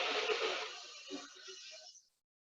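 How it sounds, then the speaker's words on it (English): A hissing Sheetkari breath, air drawn in over the tongue through clenched teeth, a steady close breathy hiss lasting about two seconds and then cutting off into silence. "we'll inhale over the tongue through the teeth in a hissing sound."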